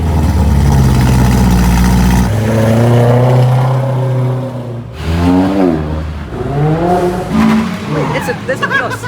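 Toyota Vios engine revving hard at a car meet, loud rising and falling engine notes in several bursts with tire noise, as people talk over it.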